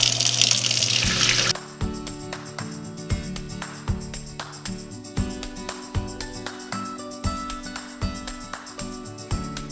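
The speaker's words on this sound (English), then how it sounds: "needs a refresh of water." A kitchen tap gushes loudly for a second or two while refilling a flower vase, then shuts off, followed by a series of soft rhythmic knocks and clinks.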